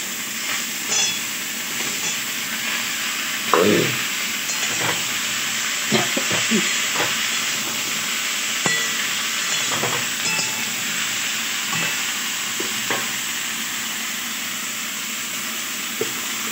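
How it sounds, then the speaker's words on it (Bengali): Potato and sweet potato pieces fry in a pan with a steady, close sizzle, punctuated by several stirring scrapes and light clinks of a utensil against the metal. "এবার আলু আর মিষ্টি আলুটা দিয়ে দিচ্ছি।"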